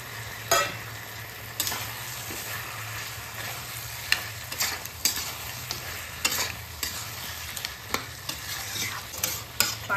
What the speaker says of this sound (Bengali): এখন আমি আলুগুলো দিয়ে দিচ্ছি এখানে।